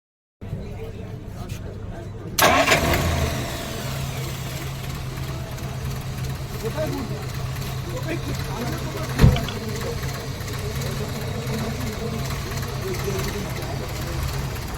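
A 1948 Plymouth Deluxe Special engine cranks and catches, then settles into a steady, even idle with a smooth rhythmic beat, heard up close with a brief knock partway through.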